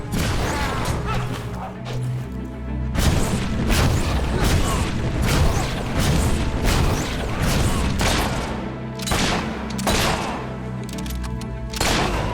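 Gunfire in the video game Fable 3: a dense, loud barrage of booming shots and crashing impacts, continuous and close, with game voices shouting underneath.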